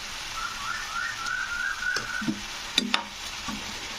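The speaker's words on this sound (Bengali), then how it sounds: "আদা রসুনের পেস্টটা দিয়ে একটু নাড়তে হবে" Ginger-garlic paste frying and being stirred in a pan, a steady hiss and sizzle with a few soft scrapes and knocks of the spoon near the end.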